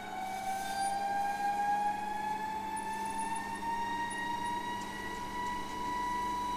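DC machine rated at 220 V speeding up as applied voltage rises: a steady motor whine with rising tonal harmonics that climb in pitch throughout, over a constant hum, with no voices.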